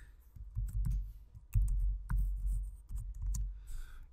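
Keystrokes on a computer keyboard while entering a month name into a Google Sheets cell, a quick uneven run of soft clicks over a low background rumble, close and moderately loud.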